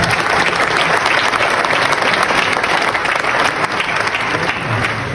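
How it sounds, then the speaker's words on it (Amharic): Audience applause at a film premiere, a dense, loud, continuous clapping from a large crowd that holds steady throughout without any talk. "ጭብጨባው ያስፈልጋል።"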